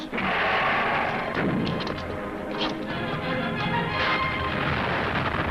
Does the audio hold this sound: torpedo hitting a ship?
yes